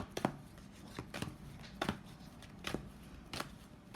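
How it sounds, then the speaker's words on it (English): Crisp riffling bursts of tarot cards being shuffled, several quick flurries spaced about a second apart, close and fairly quiet with no talking. "I want to shuffle one more time actually."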